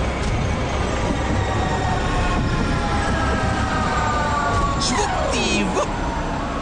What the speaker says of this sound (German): der Zug!